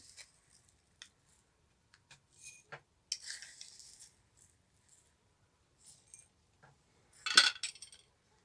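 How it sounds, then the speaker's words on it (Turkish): Tea spoon scooping salt into several garlic pickle jars, giving a series of short, faint clinks and taps spread out over the clip, with a louder rattling burst near the end. "Onunla bir kaşık şöyle hepsini tuz atıyorum"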